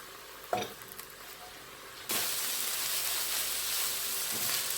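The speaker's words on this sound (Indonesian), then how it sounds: "Jadi ini diaduk terus aja." Gedi leaves and papaya flowers cook in a pan while being stirred, a faint scrape and clatter early on, then a steady bright sizzle that rises abruptly and holds to the end.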